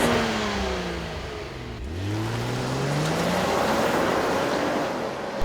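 A 2015 Volvo V60 T6 R Design wagon accelerating hard, its engine revving up through the gears with a brief shift dip midway, loud and close throughout with no talking.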